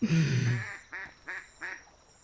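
At night by a lake in the Dolomites, a duck gives a loud nearby call, followed by three shorter, evenly spaced raspy quacks in an otherwise quiet setting.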